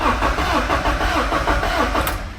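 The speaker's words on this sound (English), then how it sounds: "the car now turns over." A BMW E36 with an ignition fault cranks over without firing, giving a loud, close, steady rhythmic churn of the starter that continues throughout with no voices.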